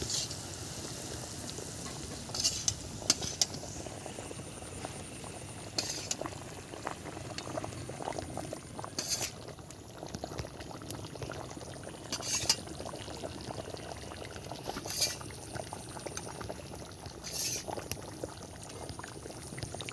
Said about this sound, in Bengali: ঝোল ফুটে গেছে আমার, খুব সুন্দরভাবেই ঝোলটা ফুটেছে।